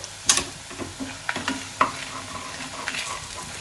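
Garlic being stirred and fried golden in a hot pan for a Tamil garlic chutney, giving a soft crackling sizzle with several sharp scraping stir strokes, moderately close, no talking.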